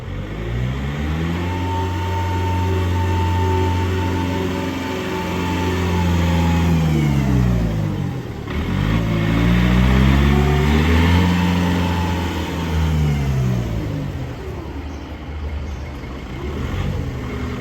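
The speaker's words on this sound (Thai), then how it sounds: "คันนี้จะเป็นเครื่องยนต์มิซูนะคะ" A heavy Mitsubishi WS200A wheel loader engine runs close by, its deep rumble rising and falling as it revs up and eases off a couple of times.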